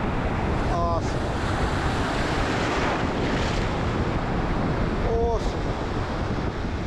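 Surf washes onto a Pacific Ocean beach as a continuous broad roar, mixed with heavy wind buffeting the microphone and a couple of brief high chirps.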